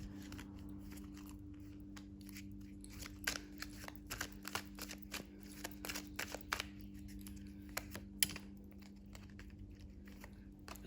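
Oracle cards being shuffled by hand, a soft, close run of quick papery riffles and flicks with irregular rhythm over a steady low hum, with no voice.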